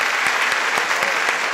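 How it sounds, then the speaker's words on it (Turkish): Audience applause in a television music programme studio, a short steady burst of many hands clapping, fairly close and continuous. "Bütün alkışlarımız."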